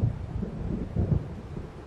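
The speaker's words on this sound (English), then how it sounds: "It seems there's a storm coming." Low, distant thunder rumbles from an approaching storm in the video game Alan Wake, a soft rolling growl lasting about two seconds with faint rain-like hiss.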